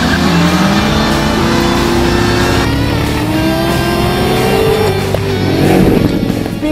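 Chevrolet Corvette ZR1 with a 6.2-liter supercharged V8 roars steadily under load, its pitch climbing and sweeping as it accelerates, loud and close throughout with a slight surge near the end.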